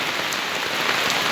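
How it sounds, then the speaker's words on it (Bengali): A short stretch of heavy downpour in Sylhet, Bangladesh: a thick, even wash of raindrops drumming on surfaces, close and loud, with no talking. "আপনারা দেখতে পাচ্ছেন অঝরে বৃষ্টি পড়ছে"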